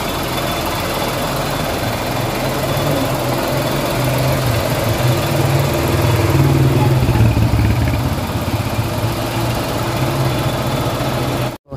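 A Suzuki Espresso car engine idles steadily with heavy vibration, a loud, close, continuous low rumble and rattle that swells slightly midway and cuts off abruptly at the end.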